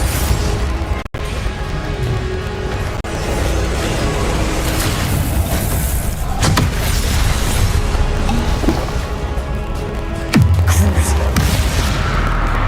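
Spell blasts and explosions in the video game Hogwarts Legacy, a loud, dense run of booms and crashes over a continuous rumbling game soundscape, with a deep impact near the end.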